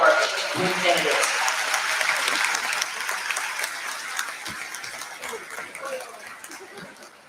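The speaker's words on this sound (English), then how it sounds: "Let's give a round of applause for all of our queen candidates." Crowd in a school gym applauding the queen candidates at a high school basketball homecoming night, loud at first and gradually fading, with chatter and a few calls mixed in.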